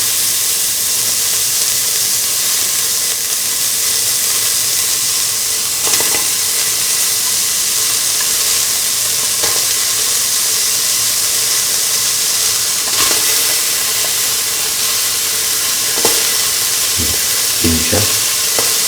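Onion frying in oil in a pan sizzles as a steady, dense hiss throughout, with a few sharper clinks of a utensil against the pan toward the end.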